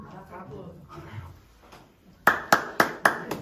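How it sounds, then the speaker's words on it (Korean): During a Sunday church service, a person talks quietly, and then four sharp, evenly spaced hand claps ring out close and loud. "박수를 쳐드립니다"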